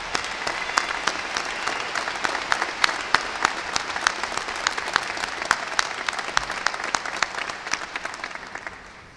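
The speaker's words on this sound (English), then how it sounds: "let's give a round of applause to them right now" Audience at a university winter undergraduate commencement ceremony applauding in a large hall, steady dense clapping that carries on for several seconds and then tapers off at the end.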